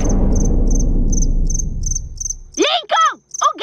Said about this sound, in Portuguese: o grilo